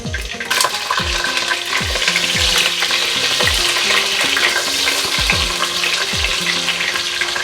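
Cut potato pieces fry in hot oil in a pan with bay leaves while mutton rezala is being made. A steady close sizzle carries through, with repeated scraping and stirring knocks and no talking.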